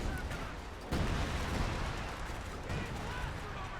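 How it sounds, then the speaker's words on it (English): Artillery bombardment in a Company of Heroes 2 match, US forces using heavy artillery alongside an anti-tank gun and a Sherman tank: dense continuous rumbling barrage with a sharp heavy blast about a second in, steady and loud throughout. "Major artillery combined with the AT gun and Sherman"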